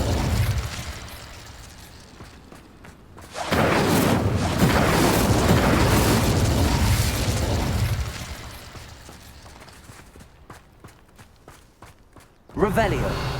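A Bombarda explosion spell in the video game Hogwarts Legacy, a loud, booming blast that swells and holds for several seconds before dying away, with a character's voice and game sounds around it.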